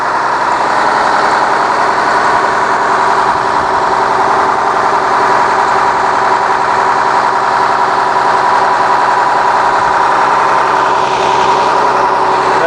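A Cummins ISC 8.3-liter diesel idles in a 2009 Blue Bird All American passenger bus, a steady, loud, even hum with an unbroken low rumble throughout and no talking.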